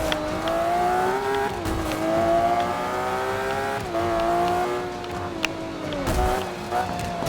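A hypercar in Forza Motorsport 5 drives with a steady engine drone that rises and falls through gear changes, with its pitch climbing and dropping under faint background talk.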